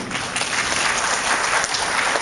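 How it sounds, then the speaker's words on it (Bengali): Loud, steady applause from a packed hall audience at the opening of a folk festival, dense clapping filling the whole stretch without voices. "এটা কিন্তু আপনাদের জন্য একটা জোরে হাততালি"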